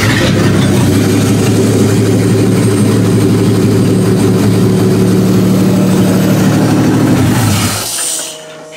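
Chevrolet Lumina engine running loudly and close after starting, a steady low rumbling drone that holds evenly before cutting off near the end.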